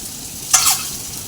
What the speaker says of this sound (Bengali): দেখো ডিমগুলো ভালো করে এবার ভেজে নিব